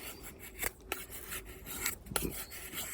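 An Opinel No. 8 carbon steel knife shaves feathersticks from dry, soft, straight, knot-free wood, producing close, rasping scrapes in several separate strokes with pauses between, and no talking.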